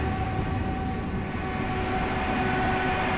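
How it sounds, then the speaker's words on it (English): An Airbus A320 taking off in Microsoft Flight Simulator 2024, a steady, continuous jet engine roar with a broad rushing noise and faint tonal whine, holding at an even level throughout. "Also in the A320. Show us how the smooth takeoff is"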